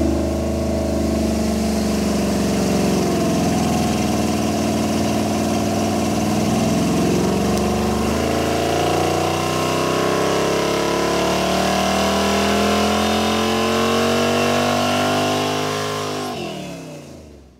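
A car engine fed a 50-shot of nitrous roars under load on a dyno, climbing steadily in pitch through a long, loud pull before cutting off abruptly near the end.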